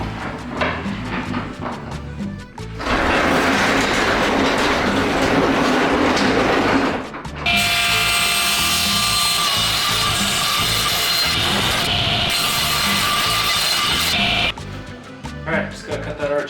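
Power saw cutting through a 1/2 inch plywood sheet on an island homestead, two loud sustained cuts, the second higher and whining, separated by a brief pause with quieter handling noise before and after.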